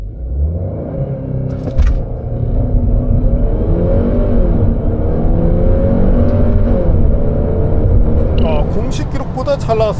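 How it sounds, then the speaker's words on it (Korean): A 2025 Audi A3 40 TFSI launching from a standstill, its engine rumbling and rising steadily in pitch through the gears, loud and close throughout, with a voice speaking briefly near the end. "자, 그럼 이번에는 아우디 A3 발진 가속 성능 볼까요?"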